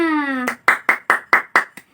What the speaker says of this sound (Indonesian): Ayo kita berikan tepuk tangan kepada kita semuanya.